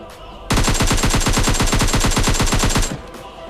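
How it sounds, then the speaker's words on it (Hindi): A sustained burst of rapid automatic gunfire in PUBG Mobile Lite, loud and close, rattling continuously for over two seconds before cutting off. "अब देखो सामने से गन साउंड्स आप लोगों को आ ही रहे होंगे विलेज के साइड से"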